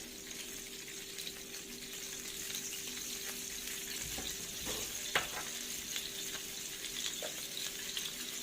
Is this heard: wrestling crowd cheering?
no